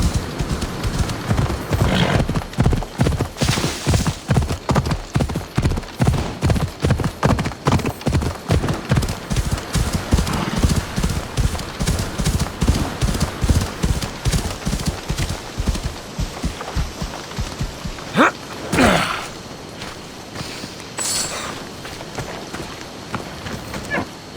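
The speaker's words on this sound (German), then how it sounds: "Pferd." A horse gallops in the video game Assassin's Creed Odyssey, with rapid rhythmic hoofbeats pounding steadily, a brief whinny partway through, then the pace slows near the end.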